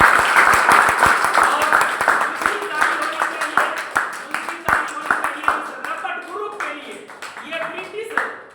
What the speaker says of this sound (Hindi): मैं चाहूंगा अपने देश के लिए एक बार ताली लगा दें।